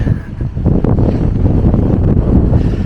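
Strong wind on a hilltop on Mykonos buffets the microphone in a constant loud, low rumble with gusty roughness throughout, no other sounds standing out.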